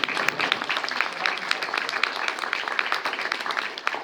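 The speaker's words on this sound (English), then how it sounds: "I'd like another round of applause." An audience at an opioid legislation panel in Urbana claps steadily for several seconds, dense broadband applause from a mid-sized crowd with no voices on top.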